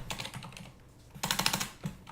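Rapid typing on a computer keyboard, a dense clatter of key taps in uneven bursts with a short lull in the middle, close and clear with no talking.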